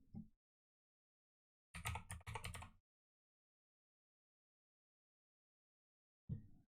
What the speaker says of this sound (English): I'm going to type them in